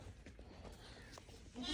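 A goat bleats several times, faint and a little distant, with another louder bleat rising at the end amid quiet farmyard background noise.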